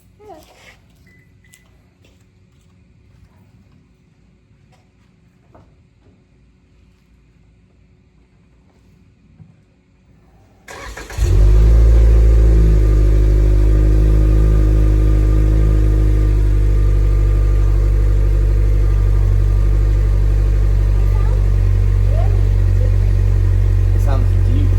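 A 2019 Toyota Corolla Hatchback fitted with an EOS exhaust starts up after a quiet stretch with faint movement, then settles into a loud, deep, steady idle drone that stays close and constant to the end.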